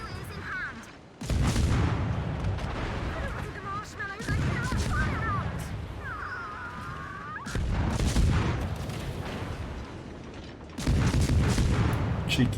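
Heavy naval gun salvos from a warship in a naval combat game, several loud booming volleys spaced a few seconds apart with rumbling tails, a brief pause between them and an engine-like drone underneath.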